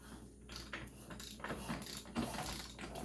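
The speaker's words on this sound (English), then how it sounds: "If I put a wrench on the motor" Wrench turning over a 1931 Harley-Davidson VL motor during engine assembly, giving a steady run of soft mechanical clicks and ratchet-like ticks at close range.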